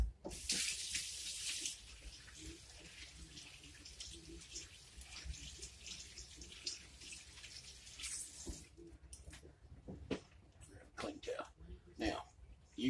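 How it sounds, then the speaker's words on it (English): Running tap water pours over hands at a kitchen sink while preparing a smoked spatchcocked chicken, a loud broadband rush for the first several seconds, then quieter splashes and clinks as the flow stops. "Let me wash my hands here."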